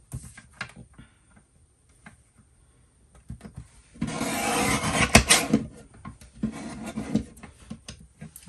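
A We Are Memory Keepers paper trimmer slicing paper for a Christmas album, with a few quiet clicks and then a loud, sustained rasping slide of the blade, followed by a shorter second pass.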